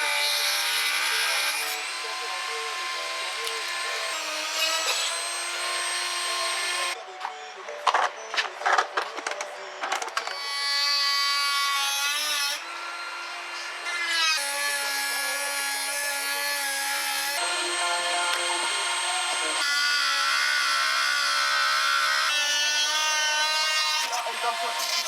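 A power tool cuts through a motorcycle seat support on a 600XT, whining steadily in long close passes with brief pauses and rattling bursts between cuts, and someone talks in between.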